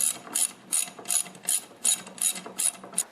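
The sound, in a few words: bolts tightened on Ariens snowblower friction disc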